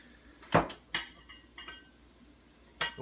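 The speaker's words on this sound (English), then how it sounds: "Throw some onions in." Onions drop into an Instant Pot of melted butter for chicken paprikash, heard as a few sharp metallic clinks and knocks of utensil against pot amid near-silence.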